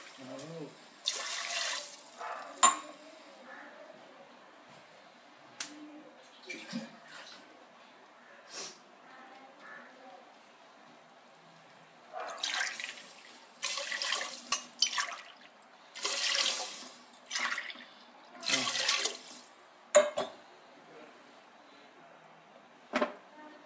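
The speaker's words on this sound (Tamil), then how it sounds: "ஒரு டம்ளர் அரிசி அஞ்சு டம்ளர் தண்ணி ஊற்றிடும்." Water is poured into a pot of soaked rice and lentils for Ramadan fasting porridge in several short, splashy bursts with quiet gaps between them. No voices are heard.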